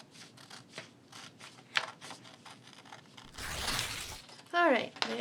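Scissors cut out a traced pattern in paper or cardboard, up close. Quick crisp snips come in clusters, then a longer rustling crunch as the piece is handled and a brief sliding rasp, with some faint voice in the background.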